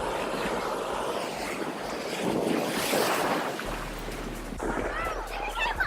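Ocean waves churn and wash with strong wind buffeting the microphone, a broad rushing roar that surges midway, recorded outdoors at sea close up.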